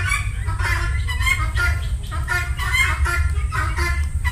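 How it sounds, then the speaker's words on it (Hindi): Turkeys and guinea fowl on a poultry farm fill the air with a continuous, loud chorus of overlapping squawks, clucks and gobbling calls, steady throughout with no pauses. "टर्की गिनी फॉल दोनों है।"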